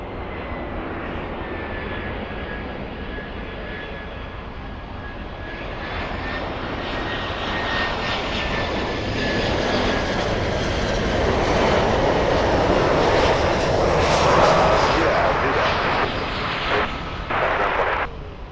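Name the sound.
aircraft engines at Miami International Airport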